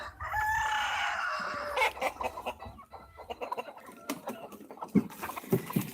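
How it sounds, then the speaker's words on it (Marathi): A rooster crows loudly, followed by a busy flock of free-range country chickens, about a thousand on the farm, clucking and scratching around, with scattered calls continuing throughout. "आपल्याकडे जवळपास आता हजार कोंबड्या आहेत"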